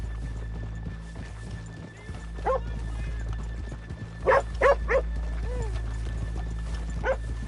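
Horses in the open world of Red Dead Redemption 2 whinny and snort several times in short bursts over a steady low ambient hum, with a dog barking faintly nearby.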